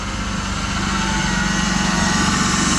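A car engine idles steadily right after starting, a loud continuous running drone with a faint ticking texture throughout and no talk over it.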